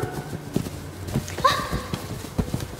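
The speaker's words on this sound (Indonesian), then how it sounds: "Ada suara kaki kuda" Horse hooves clip-clop at a steady walking pace, moderately close, with a brief whinny partway through and faint background noise.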